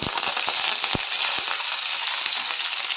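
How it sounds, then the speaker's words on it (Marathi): Green chilies and curry leaves dropped into hot oil already holding whole spices for aloo matar pulao, a loud continuous hiss of sizzling with scattered sharp crackles and pops throughout. "त्यानंतर हिरव्या मिरच्या आणि कढीपत्ता घालते"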